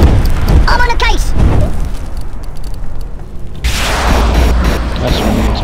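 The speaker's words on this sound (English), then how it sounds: "That's from the explosion." A Worms Reloaded explosion booms loud and rumbling, with broadband blast noise dropping away and then swelling again, heard under and between people talking.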